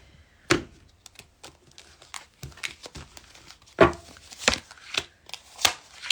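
A tarot card deck being cut and shuffled close up: scattered crisp riffles, slaps and papery snaps in an irregular rhythm, quiet between bursts, with no speech.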